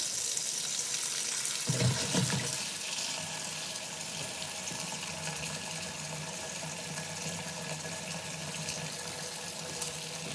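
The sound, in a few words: rinsing grapes under running tap water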